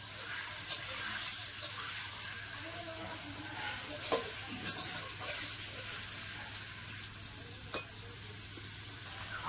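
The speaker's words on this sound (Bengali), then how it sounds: "তেল গরম হয়ে গেছে, এবার তেলের মধ্যে এই কেটে ধুয়ে রাখা আলু দেবো।" Cut, washed potatoes are dropped into hot oil and fry with a steady, close sizzle. Occasional stirring clinks and scrapes sound throughout, and nobody speaks.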